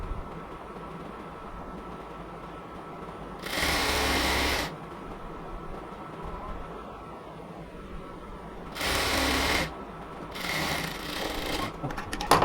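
A sewing machine runs in two clear bursts of about a second each while stitching a salwar pant seam, over a constant background hum, with a brief start of a third burst at the end.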